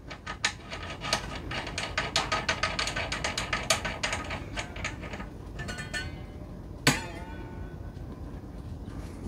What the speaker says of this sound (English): all I gotta do now is put a wing nut on here.